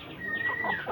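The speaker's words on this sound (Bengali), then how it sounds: "এটা হচ্ছে ফার্মি মুরগি, এটা টাইগার মুরগি, এটা হচ্ছে অস্ট্রালপ মুরগি" Chickens at a livestock fair stall in Chandpur, among farm, tiger, Black Australorp and Sonali hybrid hens, give a brief, close burst of clucking with no talk over it.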